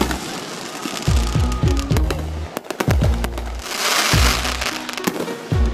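Fireworks and firecrackers go off in a neighborhood on New Year's, a rapid irregular string of sharp, loud bangs and crackling bursts in clusters, with no talk over them.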